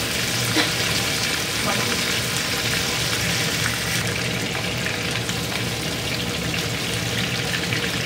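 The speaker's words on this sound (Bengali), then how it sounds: "আলু মিষ্টি কুমড়ো ভাজা হয়ে গেছে" Steady, dense sizzling of potato and pumpkin frying in oil, a constant crackling hiss with faint stirring, no talking.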